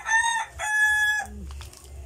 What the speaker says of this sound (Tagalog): may mga manok diri guys, mga sunoy.